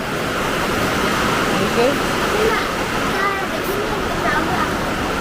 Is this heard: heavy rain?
yes